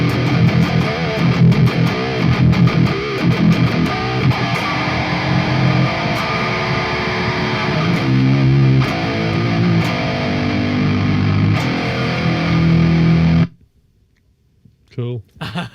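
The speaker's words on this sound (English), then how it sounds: "It's bringing that chainsaw distortion fuzz type of chaos to the tone." An electric guitar runs through an Octane fuzz distortion pedal, producing a loud, saturated, chainsaw-like buzzing tone with strummed chords that play continuously, then cut off abruptly near the end, leaving near silence with a few faint noises.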